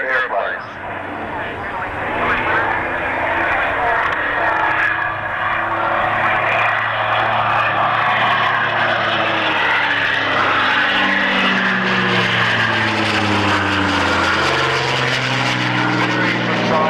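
A propeller warbird aircraft flying aerobatics at an airshow drones loudly and continuously, its engine pitch rising and falling as it manoeuvres overhead through rolls.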